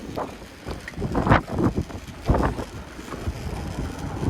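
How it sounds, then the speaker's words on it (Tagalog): Strong headwind buffets the microphone in uneven gusts and bursts while cycling uphill outdoors in Japan, rumbling loudly throughout. "Pag malakas yung hangin tas pasalubong"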